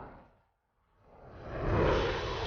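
In the Air Conflicts Vietnam video game, a jet engine's afterburner fades to near silence, then swells into a loud, broad roar that holds to the end.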